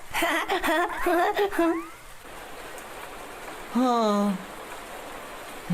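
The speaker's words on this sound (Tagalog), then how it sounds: "Sobrang lakas ng ulan." Steady heavy cartoon rain pours in the background while a voice speaks at the start and again briefly near the end.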